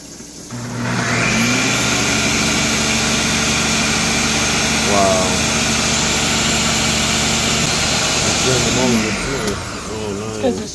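Kitchen blender running steadily at high speed with a constant whirring drone for about ten seconds, while people talk over it near the end.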